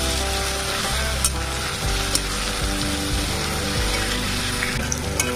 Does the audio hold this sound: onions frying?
yes